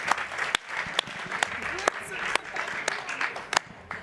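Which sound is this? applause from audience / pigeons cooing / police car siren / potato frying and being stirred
applause from audience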